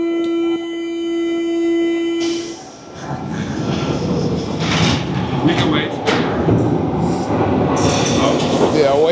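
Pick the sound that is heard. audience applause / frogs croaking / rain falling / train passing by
train passing by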